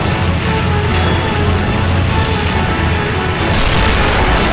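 Dense, continuous battle din from The Toy War: heavy booming explosions and blasts of artillery-like fire rumble loud and close throughout, overlapping with no pauses between them.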